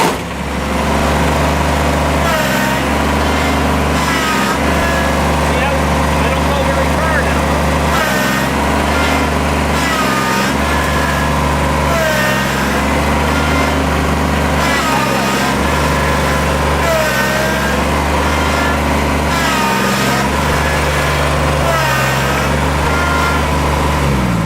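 A Kubota BX25D compact tractor engine runs continuously up close during a brake test, its steady drone rising and dipping in cycles as the machine moves forward and back a few feet, with someone talking over it.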